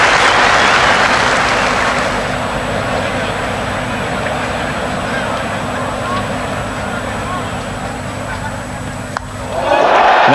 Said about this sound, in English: the crowd rise to salute a new hero of Old Trafford